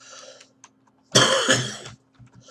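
A single harsh cough bursts out loud and close after a short stretch of quiet murmuring, with faint clicks around it.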